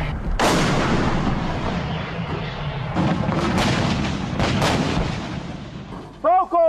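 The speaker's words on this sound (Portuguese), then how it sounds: "rapidamente foi dada a ordem para que a artilharia entrasse em cena" Angolan Armed Forces artillery firing in a battle against UNITA positions in 2002: a steady series of heavy booming shots over continuous rumble, loud and sustained, ending with a brief whooshing sweep.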